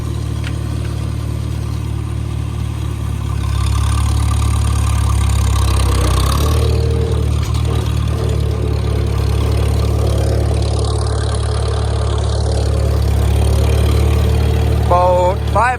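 An old farm tractor driving along the road at slow speed toward a field, a loud, steady low engine drone close by that continues throughout, with a faint voice in the background.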